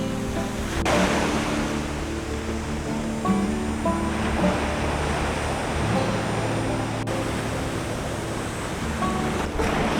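Ocean waves roll continuously onto Mal Paso Beach near Sayulita, Mexico, on a hot summer day, a loud, dense wash of surf with light wind noise and no talking.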